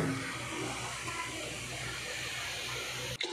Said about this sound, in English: so I just added another water